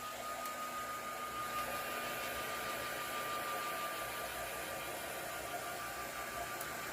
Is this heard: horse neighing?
no